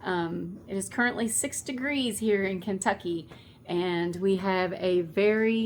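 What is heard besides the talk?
No everyday noises stand out.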